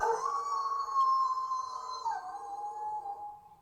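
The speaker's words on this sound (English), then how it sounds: "That's not a dog, that's a hellhound." A hellhound howls in the horror film Amityville Backrooms: one long, wavering, mournful howl that sits clear and moderately loud and slides down near the end, with no talking.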